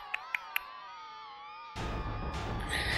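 Pet cat Theo gives a drawn-out, wavering meow, close and clear, preceded by three sharp little ticks, then a burst of broadband rustling noise toward the end.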